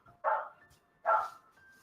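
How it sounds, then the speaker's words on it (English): Two loud, close dog barks about a second apart, sharp and clear over a faint steady hum, with no talk. "I can't hear you over the dog."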